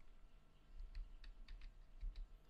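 Soft keystrokes on a computer keyboard: a short run of several quiet, irregular taps, close and faint, with no talking.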